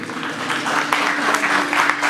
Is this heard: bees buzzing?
no